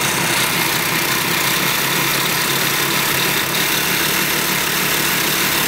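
Homemade lawn mower engine mounted on a canoe runs at a steady idle, a loud, continuous buzzing drone with no breaks and no talking.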